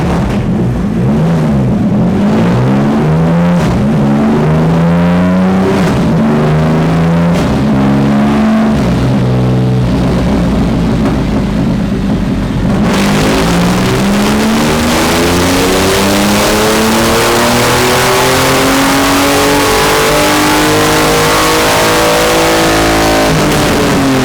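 A Triumph Rocket 3 motorcycle engine revs loudly on a dyno and holds high, rising and falling in pitch continuously, then surges into a sustained, harsher roar for the rest of the run.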